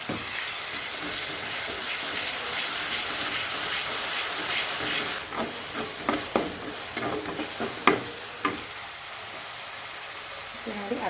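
Onion and ground chili paste fry in hot oil with a steady, loud sizzle for about five seconds, then the hiss thins as stirring clatters and scrapes in irregular bursts through the rest.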